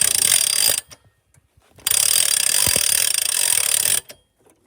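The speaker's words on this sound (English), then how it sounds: "You want to let this pressure off, all the pressure off that pin by cranking it up a little ways." The jack on a 2016 Ice Castle fish house being cranked up to ease pressure off its pin, two loud spells of steady ratcheting grind broken by short silent pauses.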